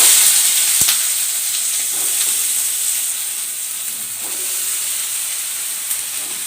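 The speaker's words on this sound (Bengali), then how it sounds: "এবার এই একই তেলে আমি বেগুনটা ছেড়ে দিই।" Brinjal (eggplant) pieces dropped into hot oil give a loud, bright hiss and crackle that fills the whole stretch, close by and without voices.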